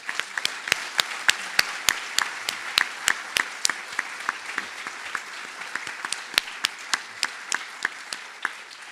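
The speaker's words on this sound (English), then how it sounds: "Let's give a last round of applause to tonight's changemakers" An audience at an awards event at a YMCA claps for the honorees: sparse, distinct, fairly faint hand claps scattered unevenly across several seconds, with a few sharper ones standing out.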